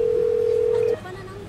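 A phone ringback tone sounds while a call is being placed, a single steady electronic tone lasting about a second before cutting off abruptly into quiet room noise.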